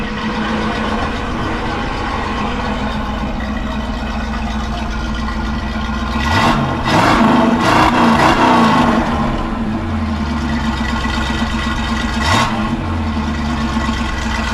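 A 1967 Camaro SS350 convertible with a 350 V8 idles in a steady drone, then gives a burst of loud throttle blips and one more short rev later, heard up close.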